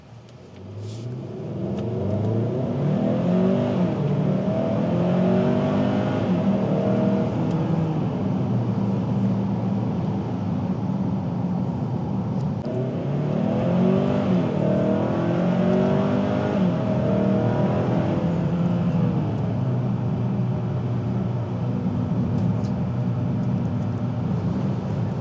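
2025 Hyundai Santa Cruz Limited AWD accelerating in normal drive mode, heard from inside as a steady engine drone climbing through two swelling runs of revs with gear changes, no talk.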